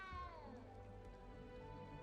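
A cat in the game Hogwarts Legacy meows in one drawn-out, wavering, falling cry lasting about two seconds, close and fairly loud with no one talking.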